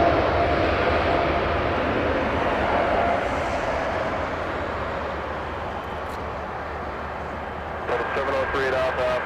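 A Boeing 787 bound for Warsaw moves at Los Angeles International Airport, a distant steady jet roar that eases slightly over time, with faint voices and chatter underneath.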